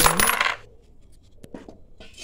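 Coins are dropped into a Kubera pot, a loud jingling pour at first, then a few scattered metallic clinks as single coins land, close and clear with no talk.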